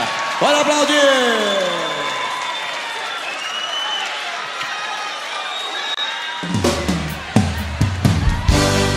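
A live country-music show audience bursts into applause and cheering after a man's enthusiastic announcement over a reverberant sound system, the clapping loud and crowded with shouts in the second half.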